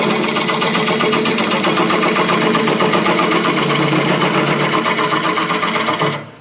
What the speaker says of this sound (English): So I'm going to go in with my skew chisel